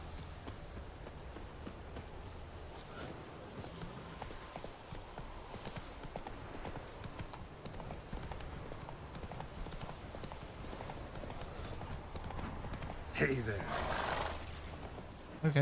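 Roach the horse from The Witcher 3 trotting, hooves clip-clopping in a steady rhythm under game ambience, with someone talking at times and a louder clatter near the end.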